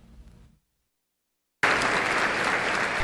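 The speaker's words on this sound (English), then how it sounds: "The crowd at the Children's Advocacy Center gave Matthew Sandusky a standing ovation" A crowd at a Children's Advocacy Center event gives a standing ovation, heard as loud, dense, sustained clapping that starts abruptly after a moment of silence.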